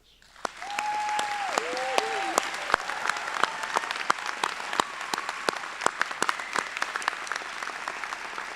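An audience applauds graduates at a medical school commencement, a broad steady wash of clapping from a large hall that rises quickly and holds, with a few sharp nearby claps and a short cheer or whistle early.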